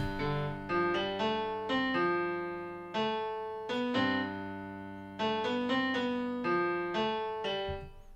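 A melodic instrumental phrase in Mixolydian mode, clear sustained notes and chords with a major but bluesy flavor, played alone in a moderate, unhurried rhythm.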